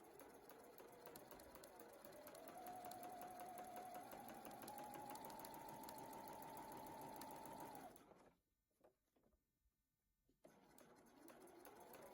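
Sewing machine stitching the long seam of an inseam pocket, a steady loud motor whir running for several seconds before stopping abruptly, followed by quieter handling sounds.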